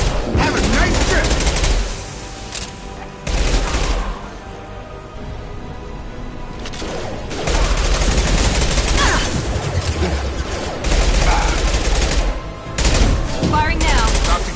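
Sustained video game gunfire rattles in heavy, overlapping volleys with booming impacts, loud and close, while a voice speaks intermittently over the battle.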